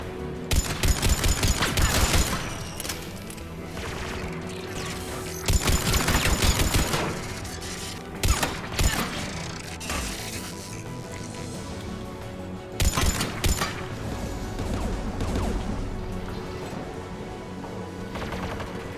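Anti-aircraft gun firing in the Mass Effect 3 video game, loud bursts of rapid heavy gunfire in several separate volleys, with steady mechanical battle noise between bursts and no talk.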